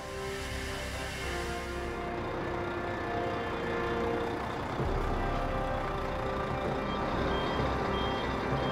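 Trucks carrying prawn shells at a processing plant sound steady reversing beeps over a loud, continuous diesel engine rumble, with a brief air-brake hiss partway through.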